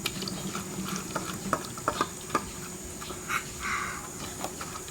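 Fish recipe ingredients with powdered spices, salt and raw oil are stirred and mixed in a pan, giving soft wet squelches and scattered clicks of a utensil against the pan in an uneven rhythm over a low steady hiss.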